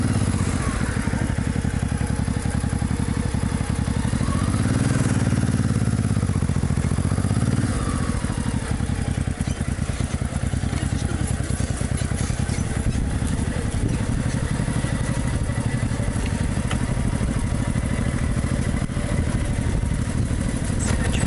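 Motorcycle engine droning loudly and continuously while riding along a narrow residential street between houses, close to the microphone with steady rumbling and slight pitch shifts from revving.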